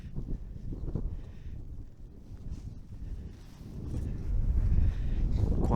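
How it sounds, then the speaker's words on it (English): Wind buffeting a microphone high on Sugar Loaf Mountain near Abergavenny, Wales, a continuous low rumbling roar that eases midway and then strengthens again, with no voices. "Quite windy up here actually."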